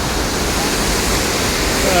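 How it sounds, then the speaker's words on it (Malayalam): Cheeyappara waterfall near Munnar swollen with June monsoon rain, a dense, steady roar of falling water that fills the whole short stretch at constant loudness. "മൂന്നാറിലേക്ക് പോകുമ്പോൾ നമ്മൾ ആദ്യമായിട്ട് നിർത്തുന്ന വെള്ളച്ചാട്ടമാണിത്"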